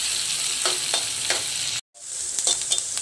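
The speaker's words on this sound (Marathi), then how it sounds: "कांदा चांगला परतून घ्यायचा" Finely chopped onion sautéing in a pan with a pinch of asafoetida, a steady close sizzle with a few spoon scrapes and a brief silent gap midway.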